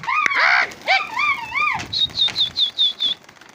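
Pigeons in a rooftop pigeon-flying setting give bursts of wing flapping and calls up close, then a run of about seven short, regular chirping notes.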